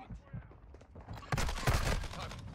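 Bursts of gunfire crackle in COD Warzone 2.0, starting faint and then louder rapid shots from about the midpoint, with a voice speaking over them.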